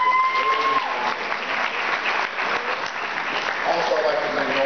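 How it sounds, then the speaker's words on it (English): A school audience gives a steady, loud round of applause that fills the whole stretch, with a voice faintly audible over the clapping. "I want you guys to give them a round of applause."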